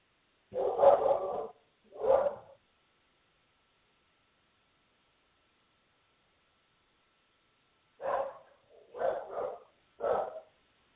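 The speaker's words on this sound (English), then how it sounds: "My dog is going crazy. There's somebody at the door." A dog barking at someone at the door, heard as two bursts of muffled, band-limited barks, then a long silence and a further run of three or four barks.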